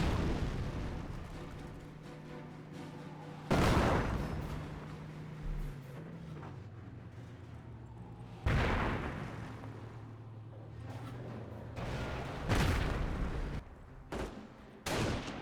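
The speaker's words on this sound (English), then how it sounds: "got some artillery or mortars running in right there" Artillery or mortar shells in a Company of Heroes 1 World War II battle slam down in several deep, booming explosions spaced a few seconds apart. Lower rumbles and background battle noise sit between the impacts.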